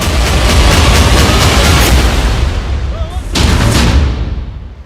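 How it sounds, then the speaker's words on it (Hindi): Two heavy blasts, one after another, a loud booming rumble that dips briefly before a second burst, then slowly fades away. "डबल धमाका"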